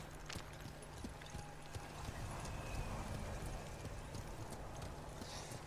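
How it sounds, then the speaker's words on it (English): Horse hooves clop steadily in a walking rhythm in Ghost of Tsushima, with a whinny and soft ambient noise around them. "there's my horse."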